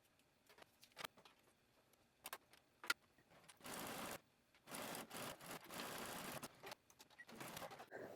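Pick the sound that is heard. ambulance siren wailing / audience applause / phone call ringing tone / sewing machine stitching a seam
sewing machine stitching a seam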